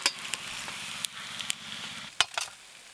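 Rupchanda fish belly pieces sizzle in hot oil with a steady close crackle, broken by a few sharp spatters and utensil taps.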